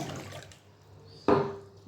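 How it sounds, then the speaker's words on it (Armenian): A cup of water is poured into lahmajun dough, briefly with a sudden gushing splash partway through, after a stretch of quiet background noise. "լցել եմ 1 բաժակոն ջուր"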